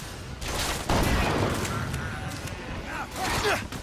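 A gun fires in the video game BioShock Infinite, a few heavy booming shots with noisy combat around them, mixed with someone talking excitedly.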